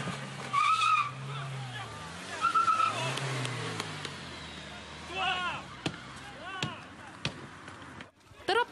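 A minibus drifts across a parking lot, tires squealing in repeated rising and falling screeches as the engine revs, with loud sharp bangs near the end and a voice talking over part of it.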